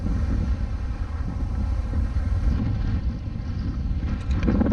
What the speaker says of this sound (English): that wind's kicking up now